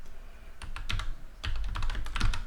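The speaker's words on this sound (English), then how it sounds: "To generate it, we're going to type in ng" Rapid clacking keystrokes on a computer keyboard as a command is typed, a close, fairly quiet burst of irregular taps with no voices.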